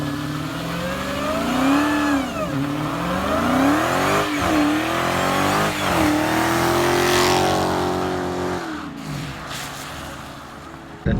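Nissan GT-R accelerating hard, its engine note rising and falling in pitch through repeated gear changes, loud and close throughout, easing off near the end.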